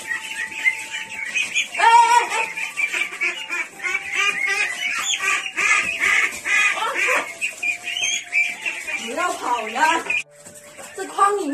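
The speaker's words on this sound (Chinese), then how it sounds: "今天我要把这些鸭子全部抓起来，准备放进池塘里面。" Ducks kept in a pigsty quack and squawk in harsh, repeated bursts as they are caught by hand, close by and mixed with someone talking throughout.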